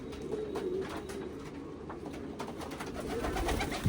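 A Deobandi pigeon coos softly and repeatedly nearby, a low throaty murmur over steady background noise, ending with a sudden louder thump.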